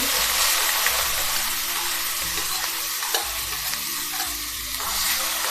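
Cumin, mustard seeds and crushed green-chilli thecha crackle loudly in hot oil in a pan as they are stirred, a dense, close sizzle broken by scraping spoon strokes, with no speech.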